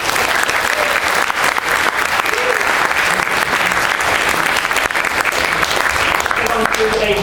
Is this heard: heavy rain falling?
no